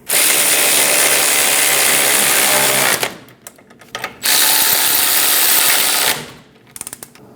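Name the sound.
ratchet snugging down caliper bolts on a Chevrolet Silverado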